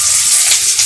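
Onion and green chillies hit a hot pan with a loud, close, hissing sizzle, one brief continuous burst with no voices.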